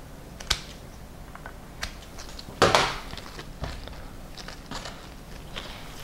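Sharp, sparse snips and crisp rustles as side stems are cut from salal leaf stems, with a louder crunching cut near the middle and soft leafy handling between.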